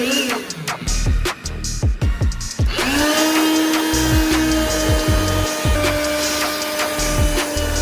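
Cordless vacuum cleaner powered by a restored drill battery, switched on midway and holding a loud, steady whine close by, preceded and overlaid by knocks and handling clatter on a table.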